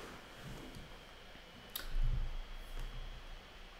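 Soft computer mouse clicks come in a few quick, quiet taps spread across the stretch over faint room hiss, with no talk.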